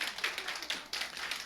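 A congregation claps hands at a church revival meeting, a brisk run of steady, fairly close claps that carries on evenly throughout.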